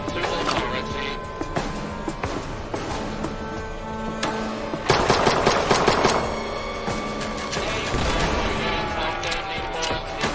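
Bursts of gunfire from hostile forces in the post-apocalyptic London of the game Fallout: London, dense and loud throughout with a heavier volley in the middle, mixed with crashes and impacts under a busy game soundscape.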